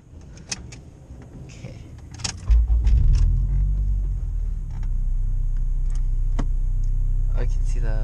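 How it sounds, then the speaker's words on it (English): A Honda Fit on a test drive, fitted with roll center adjusters and coilovers, pulls away with a low engine rumble that rises and then settles into a steady drone, with brief clicks and a short spoken word near the start. "we're gonna go for a test drive and see what it feels like with the roll center adjusters"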